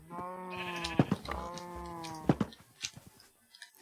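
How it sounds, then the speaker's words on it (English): Sheep in the Minecraft video game bleat several times, with clear wavering calls close up and some clicks and game noises after them. "Nope, just trimming my sheep."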